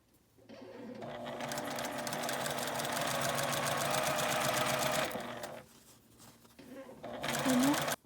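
Sewing machine stitching fabric for a large lunch bag with a handle, a fast steady mechanical whir that runs for several seconds, pauses briefly, then starts again in a short burst, close and clear.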